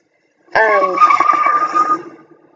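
A car crash sound effect bursts in suddenly, loud, with a screeching, tonal skid that holds for over a second before fading out.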